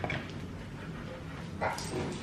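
A dog gives a few short barks and yips, brief and moderately close, over indoor background noise.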